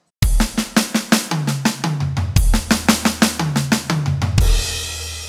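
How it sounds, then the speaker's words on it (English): Drum kit playing a fast fill of 16th note triplets with crash into snare, sharp rapid hits stepping down through the toms, ending on a crash that rings out, close and loud with no talking. "we're going to play that first idea where we're playing crash into snare"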